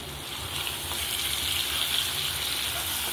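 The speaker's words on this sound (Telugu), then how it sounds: "చికెన్ ఈ స్టేజ్లో ఉన్నప్పుడు పక్కనే ఉండి కలుపుతూ వేయించుకోవాలి బాగా." Chicken frying in a pan with garam masala and coriander leaves while being stirred, a steady, close, hissing sizzle that holds at even loudness throughout.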